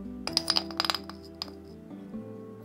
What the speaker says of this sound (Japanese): 先に調味料を混ぜておきます。